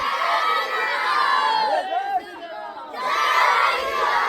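A large crowd of children shouts and yells together after a meal, a dense loud wall of excited voices that drops briefly in the middle and then surges back up, close around the listener.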